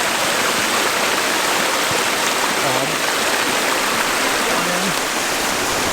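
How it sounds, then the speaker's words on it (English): Rushing river rapids roar in a loud, unbroken broadband wash of churning water, steady from start to finish with no other sounds standing out. "There's the river."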